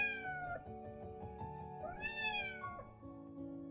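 A cat in an animated story, a silver-furred cat caught in a thorny bush, mews plaintively in distress with a rising drawn-out cry, alone over soft background music.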